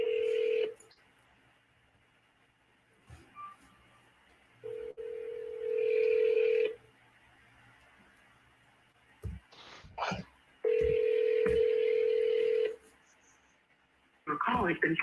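Ringback tones of a phone call, three long rings with steady gaps, loud and clear with short bursts of other sound between them.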